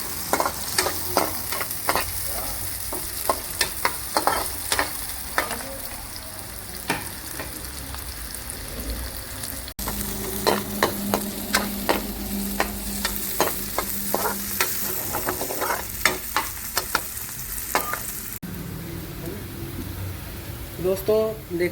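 Sliced onion rings fry and get stirred in a pan for a hotel-style veg Manchurian gravy, giving a steady sizzle broken by frequent scraping and clacking of the spoon close by, with no one talking.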